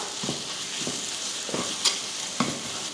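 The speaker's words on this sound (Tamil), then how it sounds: "இந்த டைமில் கொஞ்சம் மல்லித்தலையும் கொஞ்சம் கருவேப்பிலையும் பொடி பொடியாக வெட்டியிருக்கேன், அதையும் சேர்த்து கலந்து விட்டுறலாம்." A spoon stirs masala frying in a pan with chopped coriander and curry leaves, filling for egg puffs: a steady close sizzle with several rhythmic scraping strokes and a couple of light clinks.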